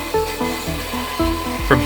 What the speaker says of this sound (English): I cut the blank into a rough circle on the bandsaw